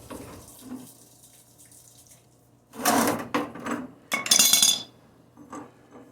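Water rushing through household plumbing during replacement of a tankless instant water heater, coming in short bursts of flow over a low hum, with light metallic clinks and knocks nearby.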